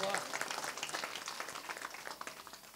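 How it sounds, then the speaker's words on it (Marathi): Audience clapping at a kirtan, a dense spread of many hands beating quickly together, fairly faint and steady, fading slightly over a few seconds with a voice audible beneath it. "एक बार जोरदार टाळ्या वाजवा."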